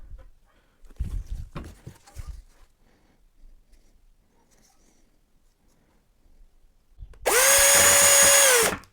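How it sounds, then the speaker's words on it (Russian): A power drill drives self-tapping screws into a handmade rustic wooden bed frame, with a single loud, close whirring burst of about two seconds near the end after quiet handling and tapping noises. "а потом скреплю саморезами"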